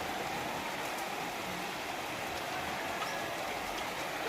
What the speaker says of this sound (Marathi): त्या तरी बघा कसा जोरदार पाऊस सुरू झालाय